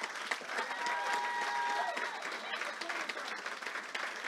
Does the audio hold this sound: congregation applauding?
yes